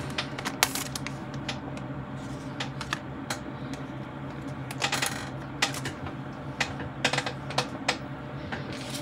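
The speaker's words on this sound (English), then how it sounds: "it's got a little bit of plastic, so let me kind of get it out" Crinkly plastic packaging is pulled and peeled away from a 2024 Factory Entertainment Star Trek Original Series Catspaw Enterprise model, a busy close run of crackles, rustles and sharp clicks with no talking.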